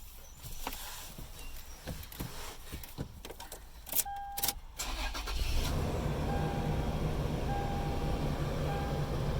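A few clicks and a jingle of keys, then a 2017 Toyota 4Runner SR5 engine cranks and catches, settling into a steady idle rumble close by.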